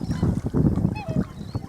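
Birds honking outdoors in nature, several close, irregular goose-like honks over a busy outdoor background.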